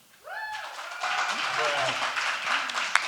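A crowd bursts into applause a moment after a short vocal cry, the clapping steady and dense for a few seconds with voices mixed in.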